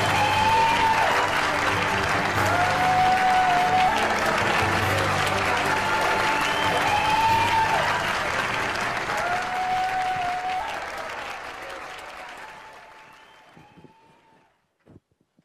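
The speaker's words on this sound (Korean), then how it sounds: "큰 박수로 맞이해 주시기 바랍니다." Big crowd applause welcoming presidential candidate Lee Jae-myung to the stage at a campaign speech event, loud and sustained, with a voice over it before fading out at the end.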